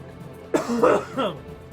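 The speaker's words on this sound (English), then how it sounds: "As I try to cough up a lung." A person coughing and clearing their throat, a short burst of rough, hacking coughs after a brief quiet pause, close and fairly loud.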